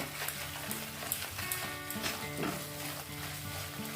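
Masala for doi katla with curd and a little sugar fries and is stirred in a pan, a dense close sizzle with repeated scraping strokes and light clinks and no speech.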